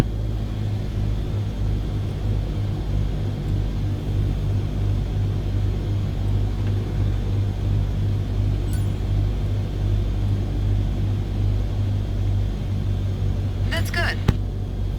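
Steady, droning engine hum of a Cessna 152 light aircraft in Flight Simulator, holding a constant low tone throughout with no breaks, a couple of faint clicks near the end.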